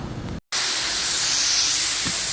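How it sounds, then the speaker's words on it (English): Welding on an exhaust part during catalytic converter repair on a 2011 Honda CR-V, a loud steady hiss and crackle after a short break, continuous and close. "Gonna come throw a bit of weld on here"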